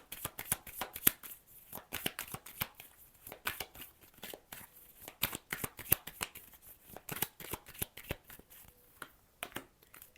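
Tarot cards are shuffled by hand in close, quick riffling bursts, crisp snaps and flutters repeating irregularly throughout at moderate volume without talk.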